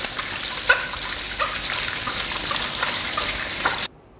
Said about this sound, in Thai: เปิดน้ำแล้วขัดครับใช้มือเนี่ยครับขัด